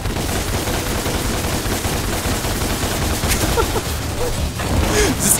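Gunfire in the video game Devil May Cry on PC, a dense continuous rattle of rapid shots with a few sharper bursts, loud and steady throughout with no clear speech.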